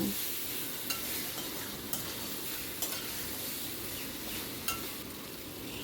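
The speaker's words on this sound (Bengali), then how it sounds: "আলুটাকে মশলার সাথে মিনিটখানেক ভালো করে কষিয়ে নিলাম।" Potatoes sauté with spices in a pan, giving a soft, steady sizzle with occasional light clicks of stirring against the pan, quiet and close, with no talking.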